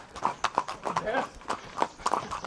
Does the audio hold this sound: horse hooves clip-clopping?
yes